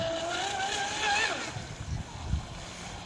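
A Hobbyking Hydrotek F1 self-righting RC boat's motor whines up at throttle, rising and sweeping in pitch for about a second and a half, then fading into water splashes and low rumbling at moderate distance.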